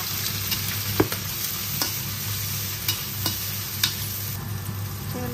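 Green pepper and dried tofu with scallions stir-fry in a home wok, a steady close sizzle broken by sharp clacks of a spatula scraping and tossing the ingredients a few times.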